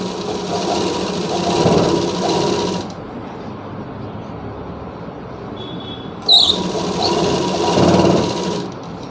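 A sewing machine stitches a seam on a Rajputi lehenga in two close, loud bursts of rapid, rhythmic whirring, separated by a few seconds of quiet and a small clack when the machine restarts.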